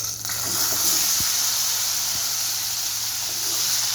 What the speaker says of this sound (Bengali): আলুটা ভেজে দিচ্ছি।